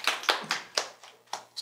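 A handful of separate hand claps from an audience at a job-skills lecture, about six sharp claps spaced unevenly over under two seconds, close and fairly quiet, with no talking.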